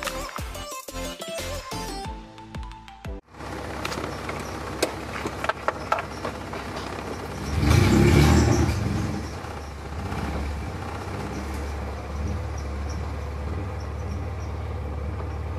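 Honda Civic EK out on a test drive after a rear subframe install, steady road rumble and engine drone from inside the car with one brief swell midway, following a few seconds of unrelated clattering at the start.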